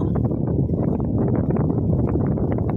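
Strong wind by the sea at Monta Bay in Innes National Park, a loud, continuous low roar and buffeting across the microphone, without a break.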